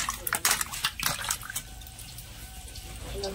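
Running tap water splashes over vegetables being washed in a kitchen sink, a steady close rush with irregular bursts of splashing, fading to a softer flow.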